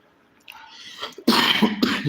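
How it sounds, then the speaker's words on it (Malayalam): A single harsh cough bursts out close by after a brief breathy lead-in, followed by a second throaty hack. "ചുമ പിടിച്ചു"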